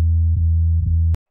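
A bass track plays back in Pro Tools as a loud, deep, sustained bass note with a couple of slight re-plucks. It cuts off abruptly just before the end, with no voice over it.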